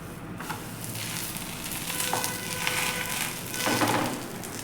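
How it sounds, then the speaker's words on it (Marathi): Steady soft sizzle of a sesame, jaggery and peanut stuffed poli roasting in ghee on a hot griddle, with faint scraping and a few louder crackling swells, no talking. "आता आपण ही भाजून घेऊयात चांगली खरपूस अशी होईपर्यंत दोन्ही साईडनं व्यवस्थित अशी भाजून घ्यायची आहे"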